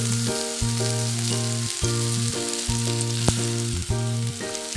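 Paneer tikka with capsicum and onion sizzling and roasting in a pan, steady loud frying hiss close up, with a persistent droning hum underneath throughout.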